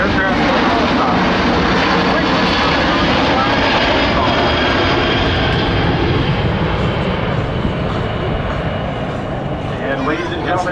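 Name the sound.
Boeing C-17 military transport aircraft flying past at Oshkosh air show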